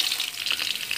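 Onion and garlic frying in a little oil, a brief close hiss and crackle with slightly pulsing texture and nobody talking.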